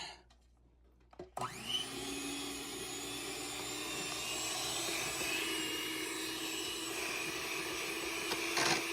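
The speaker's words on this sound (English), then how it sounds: "I've got a big old KitchenAid mixer with the drop bucket" A big KitchenAid bowl-lift stand mixer mashes boiled sweet potato and squash. After a second of near quiet, the motor starts and settles into a steady, close whirring hum that runs to the end.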